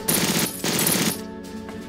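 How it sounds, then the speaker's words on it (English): Machine gun fire in the Battle Academy war game set in the 1940 invasion of France, a loud dense burst of rapid shots running continuously for about a second, then dropping to quieter battle ambience. "That machine gun's gonna tear them up"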